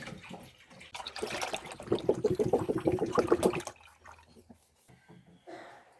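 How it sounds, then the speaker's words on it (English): Milk pours into a cooking pot for homemade yoghurt, a steady liquid splashing and trickling for about three and a half seconds before it stops, leaving quiet room tone. "pour our milk into our pot"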